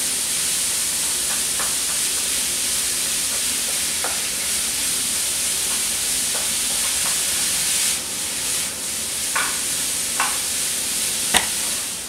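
Beef mince frying in a pan and being stirred, a steady close sizzle with occasional scraping clicks from the spoon or fork, continuous throughout with no talk.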